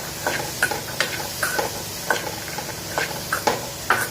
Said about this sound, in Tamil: இப்போ போட்டு இதெல்லாம் நல்லா இப்போ மிக்ஸ் பண்ணிக்கலாம்.